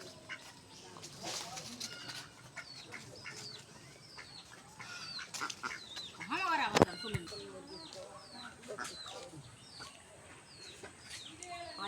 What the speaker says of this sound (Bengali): গ্রামে কত হাঁস।